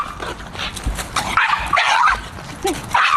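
A dog barks, yips and whimpers in short, uneven bursts, fairly close and loud, with brief pauses between the cries.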